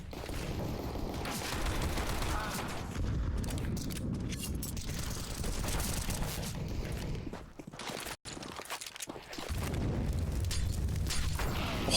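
Grenade blasts and gunfire from a Counter-Strike match on Dust2, dense overlapping shots and booms filling most of the stretch, with a brief lull and a sharp break before the firing picks up again.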